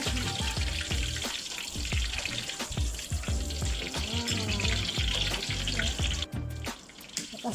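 Spices, onion, garlic and ginger sautéing in a pan for biryani, a steady close sizzle with scattered stirring clatter and water-like crackle throughout, no talk.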